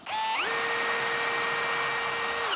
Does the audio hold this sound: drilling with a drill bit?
yes